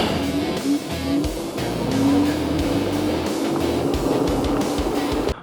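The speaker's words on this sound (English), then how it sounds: "we're gonna do an acceleration test really quick with mode 1, 2, and 3" A Heybike Saturn electric bike accelerates outdoors, carrying a steady rising motor whine under broad wind rush that holds loud and continuous throughout, and no voices.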